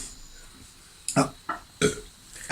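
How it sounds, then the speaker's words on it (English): Several short, abrupt burps come in quick succession after a quiet stretch, close to the microphone and fairly loud, with no speech. "I had a hiccup, but I also wanted to burp."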